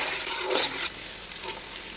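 Three tomatoes sizzling in a hot pan for chicken biryani, a soft steady fry with a couple of brief scraping stir strokes near the start, close and fairly quiet.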